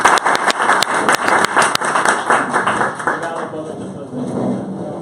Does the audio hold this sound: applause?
yes